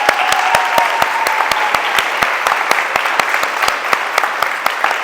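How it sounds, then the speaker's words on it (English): Loud, close applause at a high school student TV showcase, a fairly thin crowd clapping with distinct sharp claps standing out against a steady wash of hand noise, no voices. "So a big round of applause for all of them."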